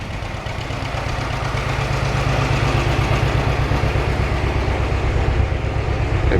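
A hand-started John Deere tractor from the late 1930s runs close by with a steady, low, rhythmic chugging that grows slightly louder and stays even throughout, with no voices.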